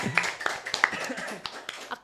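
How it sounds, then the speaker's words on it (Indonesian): A few people clapping in a podcast studio, scattered sharp individual claps with uneven rhythm, mixed with talking and light laughter close by. "tepuk tangan semuanya"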